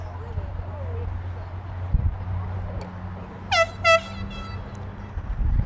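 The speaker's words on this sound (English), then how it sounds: "Air horn sounds, and that will wrap this one" At the end of a girls' varsity lacrosse game, an air horn gives two short loud blasts in quick succession, heard over crowd murmur and a low background hum.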